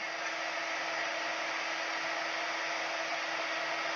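Heat tool warming embossing powder on glass, an even, breathy blowing hiss that holds steady and fairly quiet throughout.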